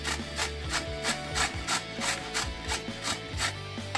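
Carrots being grated for gajar halwa, a steady series of rhythmic rasping strokes, about a dozen evenly spaced passes, close and fairly loud with no voices.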